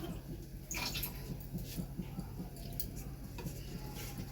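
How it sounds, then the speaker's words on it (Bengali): Batter for alu tikka being mixed by hand with a little water added, a soft wet stirring and clinking in a bowl that carries on steadily without talk. "এবারে অল্প জল দিয়ে এটা একটা ব্যাটার আমি তৈরি করে নেব।"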